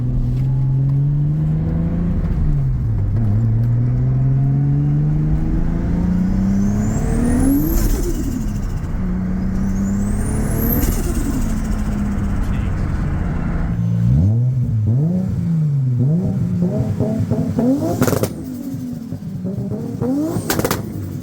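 A Nissan 240SX with a swapped Skyline RB25DET engine on E85 revs hard through several rising pulls and shifts, loud and close from inside the car, with a quieter stretch near the end.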